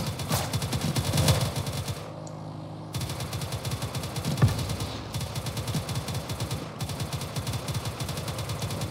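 Rapid automatic gunfire from the Roblox game Harbor Havoc, dense and loud bursts rattling continuously with brief pauses, no talk over it.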